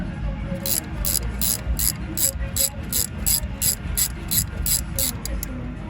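A 15mm wrench cracking the brake caliper bolts on a 2006 Buick LaCrosse CX, heard as a steady run of quick, crisp ratcheting clicks repeating close by under low background noise.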